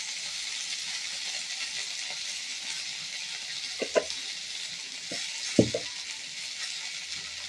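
Pabda fish curry spices with cumin powder sizzle in a frying pan, a steady soft hiss of hot oil with a few brief clanks of stirring midway, close by and without voices.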